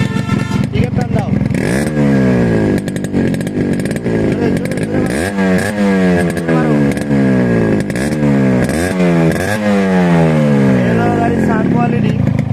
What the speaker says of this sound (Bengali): আর গাড়ির সাইলেন্সার পাইপের সাউন্ডটা এই মুহূর্তে শোনাচ্ছি আমাদের